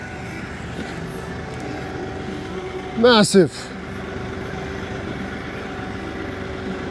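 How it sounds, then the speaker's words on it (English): A tractor engine runs at a steady low drone while digging up large rocks, and someone briefly speaks over it partway through. "There's my tractor."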